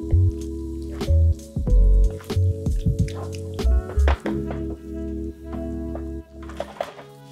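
Sausages submerged in thick tomato sauce cook with irregular bursts of soft, wet plopping and squishing bubbles at close range.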